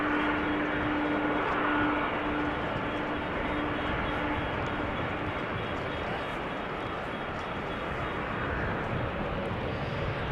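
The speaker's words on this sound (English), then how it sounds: "Is that another 767? Yep, another United 767." A United Boeing 767 airliner at Amsterdam Schiphol Airport, its steady engine roar heard at a distance for the whole stretch, broad and even with no talk over it.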